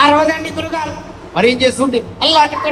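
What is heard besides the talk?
No everyday noise stands out behind the speech.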